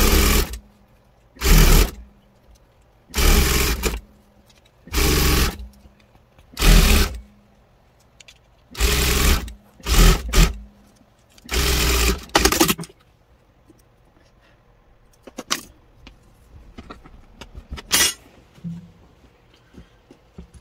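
A sewing machine stitches the hem of a crop top in about eight loud, separate bursts of a second or so each, with quieter handling sounds and a few sharp clicks in the pauses.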